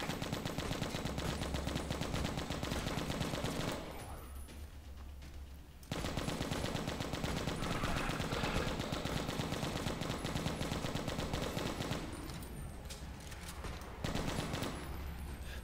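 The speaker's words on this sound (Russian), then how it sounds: "Пулемет использую просто на протяжении вообще всей битвы." A machine gun in the zombie shooter game Left to Survive fires in long sustained bursts, loud and continuous, with two short pauses between volleys.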